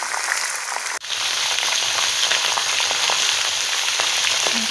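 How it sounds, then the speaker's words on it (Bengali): Mixed vegetables fry in a pan, giving a dense, even sizzle that starts after a brief dip and carries on steadily up close. "সব সবজিগুলো দিয়ে দিয়েছি, দিয়ে একটু ভাজা ভাজা"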